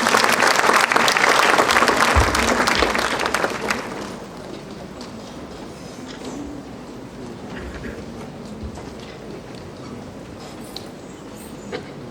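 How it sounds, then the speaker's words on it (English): Loud audience applause welcoming dignitaries at a college event, a dense burst of clapping for about four seconds that then drops to faint room noise and scattered stray claps. "Can we please give them a huge round of applause?"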